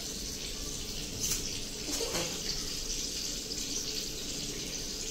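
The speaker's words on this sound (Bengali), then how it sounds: "তাড়াতাড়ি হাতটা ধুয়ে নাও" Tap water runs steadily into a sink as hands are washed under it, a continuous close splashing hiss at moderate level with small surges of splatter and no voices.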